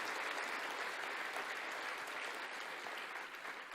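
A church congregation claps in sustained, dense applause during a worship service, steady and fairly loud throughout with no voices standing out, tapering slightly toward the end.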